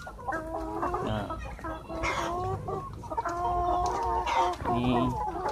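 Thirteen-week-old laying hens cluck in overlapping, busy calls, close and loud, with a crow-like call among them and a voice faintly underneath.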